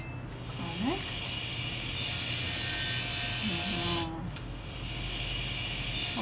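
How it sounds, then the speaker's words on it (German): Wood being sawn in a sawmill in the farming video game Pumpkin Days, a steady rasping, hissing saw noise that rises and pauses in sections, with someone talking briefly under it. "Und das Holz kommt direkt in die Sägemühle."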